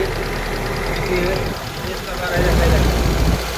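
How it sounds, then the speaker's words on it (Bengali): A car engine idles with a steady low rumble close by while a person talks over it. "গাড়ি কিন্তু স্টার্ট অবস্থায় আছে"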